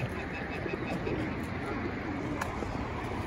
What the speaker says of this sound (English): They are so amazing pigeons.